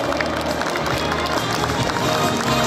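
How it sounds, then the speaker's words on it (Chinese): Applause from a crowd at a Kintetsu friendship ceremony greeting an executive, a steady loud patter of many hands clapping throughout, with some voices mixed in. "掌声欢迎米田常务。"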